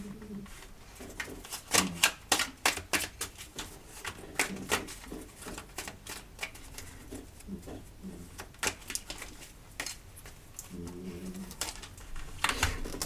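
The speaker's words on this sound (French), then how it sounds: "on va remélanger un petit peu, on va regarder les petites cartes du jeu" Tarot cards being shuffled by hand, a run of crisp, irregular riffling taps and slaps at close range, with brief soft murmurs between them.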